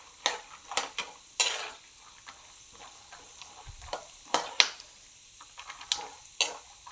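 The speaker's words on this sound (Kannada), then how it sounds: "ಇದು ಚೆನ್ನಾಗಿ ಶೇಂಗಾನ ಫ್ರೈ ಆಗ್ತಿದೆ ಫ್ರೆಂಡ್ಸ್" Peanuts frying in a pan for puliyogare, with a steady low sizzle broken by sharp scraping stirs and a few bright clinks of a spoon against the metal, spread unevenly through the stretch with no talking.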